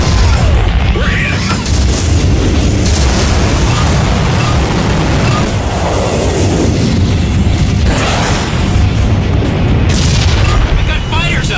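Missile hit explosions and heavy combat booms from the PS2 flight combat game Heatseeker, a dense, loud, continuous wash of blasts and rumble with no pauses, surges of impact noise recurring throughout.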